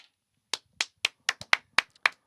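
Eight or so distinct, crisp hand claps in an uneven rhythm after a short pause, close and fairly loud, each ringing briefly, during a women's StarCraft tournament semifinal broadcast.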